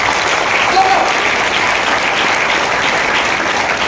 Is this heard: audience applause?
yes